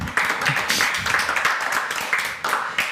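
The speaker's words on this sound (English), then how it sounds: "yes, let's clap for that one" An audience claps for a few seconds during a talk on building a tech innovation hub, producing dense, steady applause with no voices over it.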